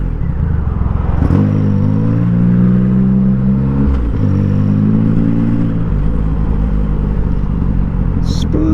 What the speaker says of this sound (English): So I'm quite used to filtering a bike through traffic like this.